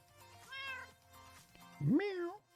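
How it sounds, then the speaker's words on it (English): A pet cat meows twice close by, a short high mew followed by a louder, rising and falling meow, with faint background noise between the calls. "My IRL cat kept getting on the desk"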